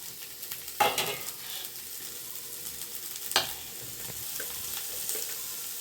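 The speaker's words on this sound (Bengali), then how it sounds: "এবার দেখো সিদ্ধ করে নিয়েছি যে আলু, এই আলুটা দিয়ে দেবো" Boiled potato is stirred into a gram flour filling frying in a pan, a soft steady sizzle with a couple of sharp spatula scrapes and light clinks, quiet and close.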